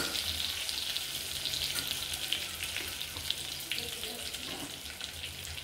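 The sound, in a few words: brinjals sautéing in a pan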